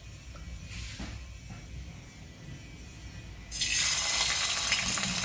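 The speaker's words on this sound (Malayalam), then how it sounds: "വെളിച്ചെണ്ണ നന്നായി ചൂടായി വരുമ്പോൾ നമുക്ക് ഇഞ്ചിയും വെളുത്തുള്ളിയും ചേർത്ത് കൊടുക്കാം" Ginger and garlic hit hot coconut oil for chicken curry, bursting into a loud, steady sizzle and crackle after a few seconds of quieter stirring and clinking.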